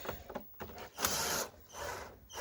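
Hand tools working Torx screws loose on a Volkswagen Golf 5 instrument panel, with faint scraping, clicks and short rasping turns, close but quiet and irregular.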